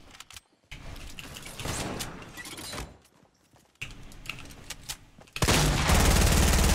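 Gunfire in a Fortnite match, a mix of sharp rattling shots and clatter that drops out briefly, then returns and swells into a loud, dense burst at the end.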